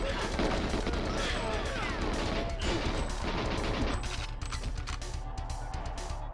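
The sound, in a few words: AK assault rifle gunfire in GoldenEye 007 N64 video game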